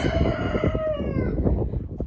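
Hens and a rooster in a henhouse, loud and close, with clucking and a drawn-out crow rising over the steady chatter of the flock.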